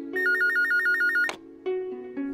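A telephone rings loudly in a house in Talod with a rapid electronic warbling trill, then stops, followed by a few shorter steady tones.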